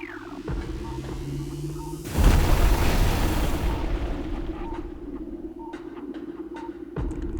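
A wall is blasted apart in Metroid Prime Remastered: a loud, dense burst of explosive rumble erupts and decays over several seconds above a steady low game hum, with small scattered blips afterward.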